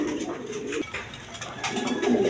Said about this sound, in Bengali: দেখেন হাই ফ্লাইং গিরিবাস কবুতর।